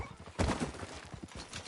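Horse hooves clip-clop in Red Dead Redemption 2, set in rough outlaw country, with a louder burst of hoof and movement noise early on. The rest is quieter, uneven steps.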